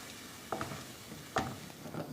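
Curd whisked into cooking masala in a pan for dahi bhindi, with a few short scraping strokes about a second apart against a faint background sizzle.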